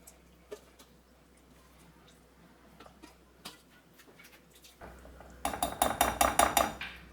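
Chicken pieces are mixed by hand into a batter in a bowl with a few light taps, then a burst of rapid, wet clattering and clinking near the end, close and fairly loud.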